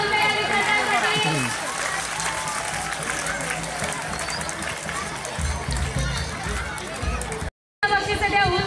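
Audience at a school prize-distribution ceremony applauding prize-winning students, dense clapping mixed with crowd chatter and children's voices, then a brief cut before the noise resumes.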